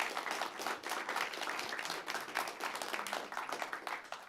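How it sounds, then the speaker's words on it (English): Audience at an AI and materials science conference session on carbon capture and conversion applauds the speakers, a steady burst of many hands clapping for several seconds, moderately loud and diffuse in a hall. "So a round of applause."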